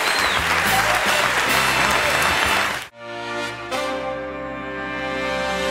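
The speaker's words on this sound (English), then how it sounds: "I'm humbled by that applause." A late-night talk show studio audience in 1987 gives loud, dense applause that cuts off abruptly, followed by a band playing sustained musical tones.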